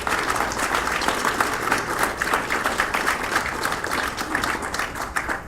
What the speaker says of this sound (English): a round of applause, please, for Acting Chief Justice of the Supreme Court of the Philippines